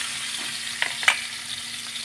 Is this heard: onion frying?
yes